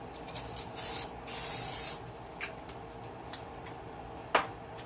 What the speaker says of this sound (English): So I'm going to spray it with nonstick spray a little bit.